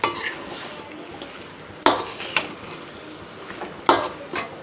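Chicken tossed with pepper powder is stirred in a pan, giving a steady low scraping with a few sharp clinks of the utensil against the pan, close by and without talk.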